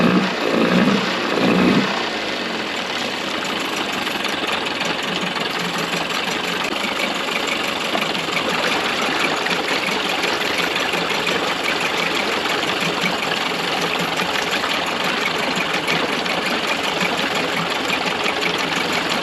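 A free secondhand Mercury outboard motor idles steadily after a brief louder burst at the start, a continuous loud buzzing drone with a fast, even mechanical rattle, close up and alone.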